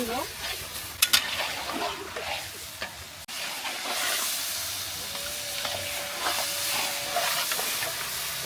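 Dumba (sheep) meat stirred with spices in hot oil, a loud, steady hiss and sizzle of frying with scraping stir strokes, close by and continuous throughout.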